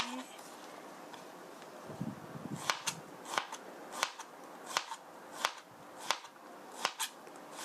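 A series of crisp knife chops slicing zucchini on a cutting board, roughly evenly spaced and close up, with soft rustling between strokes.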